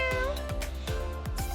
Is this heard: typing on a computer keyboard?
no